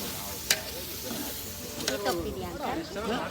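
Spice paste is stirred into biryani in a hot pan, giving a soft sizzle with a few sharp scrapes, close but quiet.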